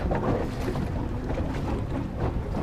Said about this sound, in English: most of what you can hear is just the hull, the wind, and the water